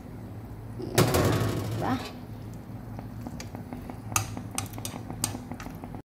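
Pork dropped into thickened teriyaki sauce in a pan makes a loud, brief sizzling burst, then pan and utensil clinks and scrapes follow while a voice speaks briefly.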